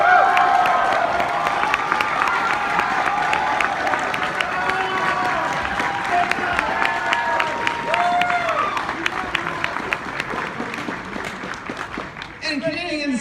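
A large convention audience at an opening ceremony cheers and applauds in a long, loud wash of clapping, whistles and shouting voices that gradually thins out, ending with a voice speaking over the fading noise.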